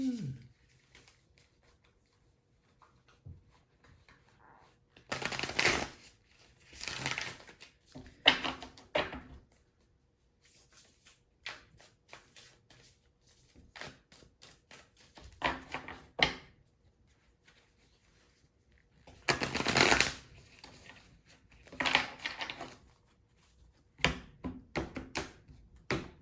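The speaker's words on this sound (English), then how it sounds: "Now it's time to reshuffle everything." Tarot cards shuffled by hand in several separate bursts of riffling and patting, close and crisp, with quiet pauses between them.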